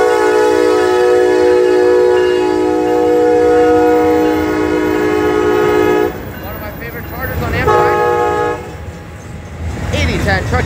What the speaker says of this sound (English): comes our last train of the day with SC44-2105.